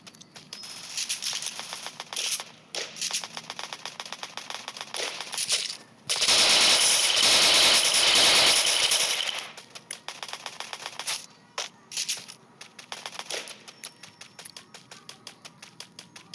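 Rapid automatic gunfire in a mobile shooting video game, short bursts repeating throughout with one long sustained burst in the middle, loud and close.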